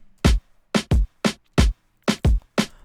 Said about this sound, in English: So first I started off with this snare that hits like this. Then I added on a kick that hits like this.